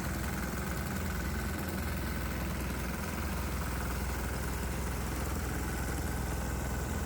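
A diesel engine fitted with a water vaporizer on its intake runs at a steady idle, a constant low rumble with faint periodic knocking, heard alone at moderate distance with no talk.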